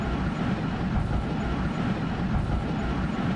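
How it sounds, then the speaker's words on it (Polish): A tram rolls along rails inside a video game, giving a steady, dense low rumble with faint rhythmic rail clatter that holds evenly from start to finish, with no voices over it. "Ale ten tramwaj popyla."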